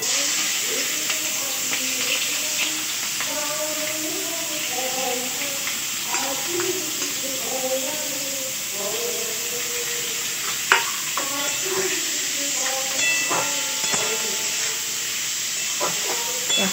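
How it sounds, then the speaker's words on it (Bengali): Vegetables sizzling in a hot pan for vegetarian Maggi noodles: a continuous loud hiss and crackle with stirring scrapes throughout, faint voices underneath. "গরম হয়ে গেছে, এবার আমি সবজিগুলো দিয়ে দিচ্ছি।"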